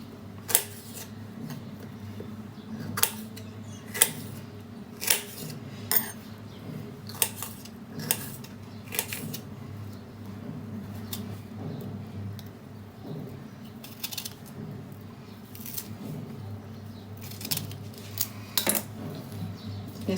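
A knife chops small raw mangoes into pieces on a board, giving a steady series of sharp, close taps and clicks spaced every second or so over a quiet background.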